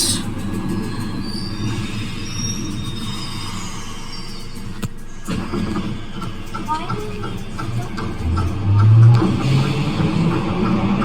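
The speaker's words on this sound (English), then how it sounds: "Pulling into Cessnock, the grey station." A Glasgow Subway train pulls into Cessnock station, with a steady close rumble of wheels on rail and squealing as it slows, the roar swelling toward the end.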